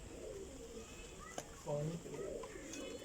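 High flying pigeons kept indoors in a breeding setup coo faintly in low, rolling calls against a quiet room hum, with a brief louder coo near the middle.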